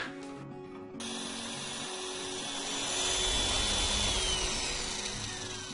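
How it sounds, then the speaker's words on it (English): An electric mixer whips egg whites for cake batter, a steady whirring drone that starts abruptly and swells slightly in pitch and loudness, with no talking. "And we're going to fluff up our egg whites."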